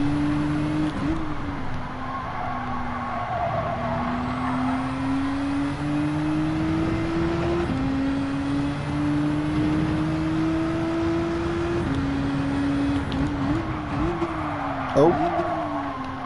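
A race car engine in Gran Turismo 7 on Trial Mountain revs steadily upward through the gears, with clear pitch drops at each shift and a brief dip on lifting off, loud and continuous throughout.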